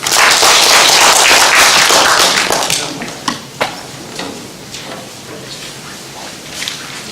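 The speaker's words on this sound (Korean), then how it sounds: "뜨거운 박수로 맞이해 주시기 바라겠습니다" Loud, dense applause from a seminar audience welcoming a government official to speak, fading after about two seconds into a few scattered claps and quiet room noise.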